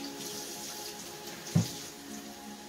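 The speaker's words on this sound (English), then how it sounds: "I'll give my hands a rinse." Hands being rinsed under a running kitchen tap while pulled pork cooks, a quiet, steady stream of water with one brief splash near the end.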